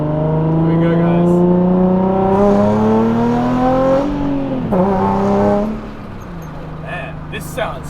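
A Nissan 350Z NISMO 380RS with a Tomei aftermarket exhaust revs and climbs through the gears, exhaust note rising then dropping as it eases off, with some talk over it.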